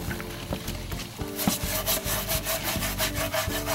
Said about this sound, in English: It's gonna take a lot of hard scrubbing.